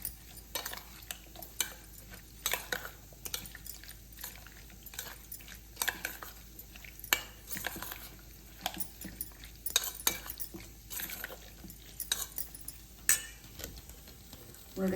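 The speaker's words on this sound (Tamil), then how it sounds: "தேவையான அளவு உப்பு சேர்த்துடலாம். நல்லா மிக்ஸ் பண்ணி விட்டுடலாம்." A spoon stirs salt into a bowl of curd and onion raita, making soft, irregular clinks and scrapes that continue for the whole stretch at a quiet, close level.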